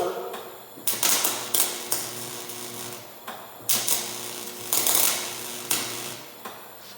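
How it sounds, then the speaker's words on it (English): A faulty welder on a dump truck job sputters and cuts out, with harsh crackling bursts that start and stop in an irregular rhythm and short gaps between them, loud and close. "That's not me starting and stopping. Something wrong with the welder."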